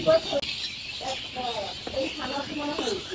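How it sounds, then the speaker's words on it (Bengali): Birds chirping and calling at dawn in a village in Natore, light, scattered tweets drifting in and out behind a low background, while a person talks quietly. "সুন্দর পাখির আওয়াজ"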